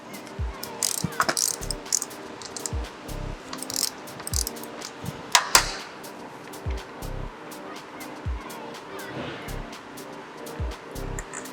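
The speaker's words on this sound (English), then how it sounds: "Next, I'm going to go ahead and remove the caliper. So I'll put on my 12mm socket." A 12mm socket on a ratchet loosens the brake caliper bolts on a TT250 motorcycle. Steady rhythmic clicking pulses of the pawl repeat close by through the whole stretch, with faint metallic clinks and a background hum.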